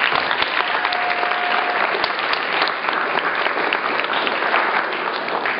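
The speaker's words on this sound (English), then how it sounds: "Let's give them a round of applause" Steady, dense applause from a sizable conference audience, sustained clapping at an even level throughout with no pauses.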